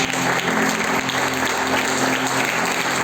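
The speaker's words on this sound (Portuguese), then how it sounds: "Você pode aplaudir o Senhor bem forte?" A church congregation applauds during a sermon, a loud, dense and continuous roar of many hands clapping, sustained evenly throughout with a faint tonal hum beneath.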